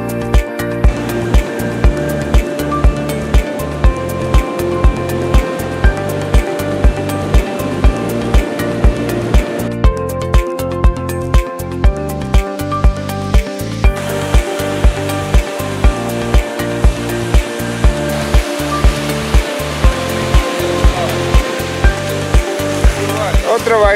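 Rough sea surf washes and roars continuously on a fishing outing, loud and close, under a steady pulsing music beat, with no clear talking.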